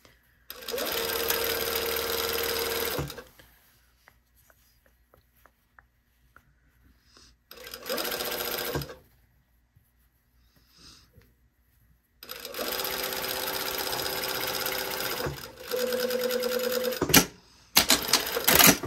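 A sewing machine stitches a side seam on a garment lining, running in loud, steady bursts of about three seconds separated by quiet pauses, with a final short burst near the end.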